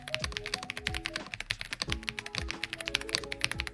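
Rapid, uneven clacking of keys on an Ajazz AK980 mechanical keyboard, close and crisp, with dozens of distinct keystrokes in quick bursts and no talking.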